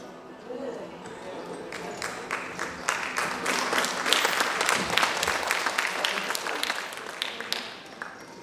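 An audience at a Valmiki Jayanthi gathering claps its hands. The applause is dense and loud, swelling over several seconds and then tapering off near the end.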